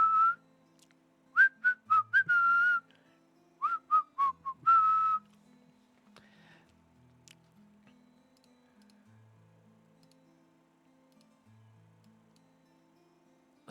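Whistling in a Danganronpa-style visual novel game comes as two quick runs of short, bright whistled notes. Soft ticking and low game tones continue quietly afterward.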